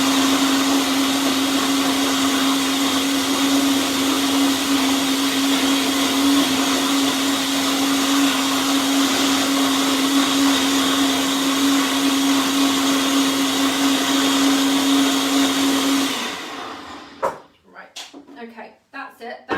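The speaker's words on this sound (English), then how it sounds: "peas will blend really, really, really well and become actually quite creamy" A blender purees peas into a creamy green vegan soup with a loud, steady whir for about sixteen seconds, then stops abruptly, followed by brief clatter.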